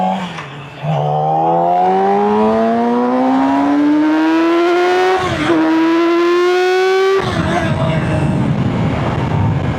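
A Yamaha R6 sport motorcycle engine revs hard, its whining note climbing steadily through the gears with brief breaks at two shifts, loud and close and sustained for nearly ten seconds.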